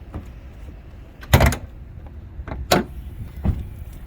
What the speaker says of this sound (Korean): 트렁크 한번 열어보겠습니다